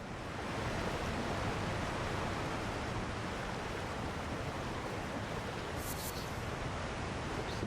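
Steady, full-band rushing of a waterfall near a dark cave ledge in Elden Ring, a continuous even roar with no breaks and no voices over it.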